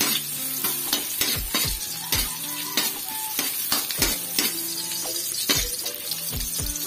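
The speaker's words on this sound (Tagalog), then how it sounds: "Tingnan lang natin mag-translucent yung ating sibuyas bago natin ilagay yung ating kamatis." Onions sizzle and fry in a pan while being stirred for a squid adobo, with steady crackling broken by repeated close scrapes and clinks of a utensil against the pan, no talking.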